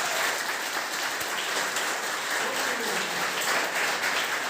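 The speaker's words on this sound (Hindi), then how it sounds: "तालियां बजा के बताएंगे कि जोश आया?" Audience applause at a meeting or seminar, a steady, dense wash of clapping held at even loudness through the clip with no talk over it.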